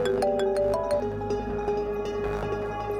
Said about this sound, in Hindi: शायद गोपी ने किसी और नंबर से फोन किया होगा।